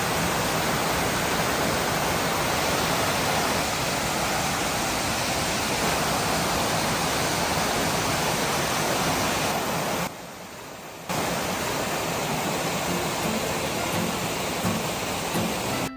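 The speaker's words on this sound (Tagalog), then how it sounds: "Ang Palaypay Falls ay matatagpuan sa bayan ng Pamplona, Negros Oriental." Palaypay Falls in Pamplona, Negros Oriental, gives a dense, loud, continuous roar of falling water that fills the clip, with a brief drop in level partway through.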